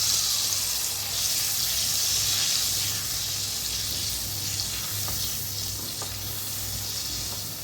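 Half a cup of water hits lightly fried chillies in a hot pan, setting off a loud, steady hissing sizzle that slowly eases, with a few small pops near the end.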